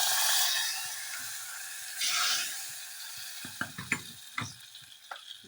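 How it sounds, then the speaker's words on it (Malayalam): Mustard seed tempering poured into a curry of bilimbi and jackfruit seeds, a close sizzling hiss that surges once more before fading, followed by several sharp clinks of stirring. "കടുക് വറുത്ത് ഒഴിച്ചോളാം."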